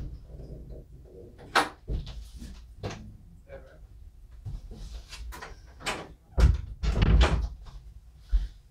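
A door opens and closes to let a cat in, with scattered thumps, creaks and a few louder knocks and clatters toward the end, along with some rustling and handling noise nearby.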